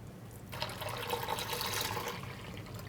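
Yogurt poured slowly from above into a cooking pot, a steady liquid splashing and trickling that starts after a brief pause and runs continuously, close and moderately loud with no talking.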